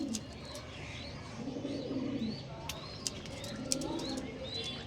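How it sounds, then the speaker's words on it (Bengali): Domestic pigeons, Fulsira and Kalsira breeds kept in a home loft, coo in soft repeated throaty rolls with occasional chirps and a wing flutter, fairly close and quiet against a light background. "চলো তোমাদেরকে ছেড়ে শখ করে দিই এবার পায়রাগুলো।"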